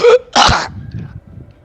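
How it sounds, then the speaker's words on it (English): Two sharp, explosive bursts close by, like a cough or sneeze, followed by quieter rustling and breathing. "Coughing in the background."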